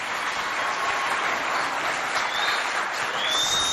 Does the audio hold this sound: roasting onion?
no